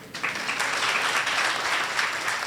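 An audience at a ribbon cutting ceremony for an event center gives a sustained round of applause, dense and fairly loud, with scattered louder claps throughout.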